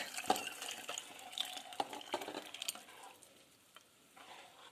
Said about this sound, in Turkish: bu şekilde karıştırıyoruz